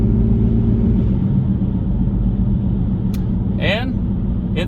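A 2007 Nissan Xterra with a worn wheel bearing drives at speed on a main road, giving a loud, steady low road roar and drone throughout, with a brief voice near the end.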